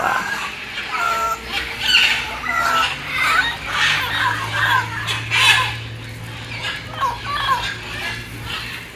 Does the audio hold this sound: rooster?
yes